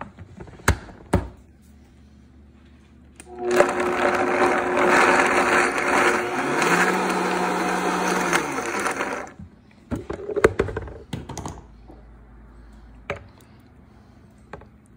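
A kitchen mixer whirs for about six seconds as it blends grated Parmesan and olive oil for focaccia, loud and steady with a pitch shift midway, bracketed by brief taps and clicks before and after.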